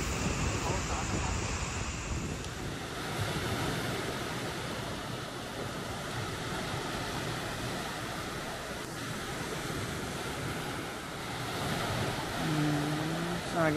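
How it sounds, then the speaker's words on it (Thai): Waves washing onto a beach at night in Rayong, Thailand, a steady broadband surf wash that swells and recedes throughout, with wind buffeting the microphone. "ก็นอนฟังเสียงคลื่นนะคะ"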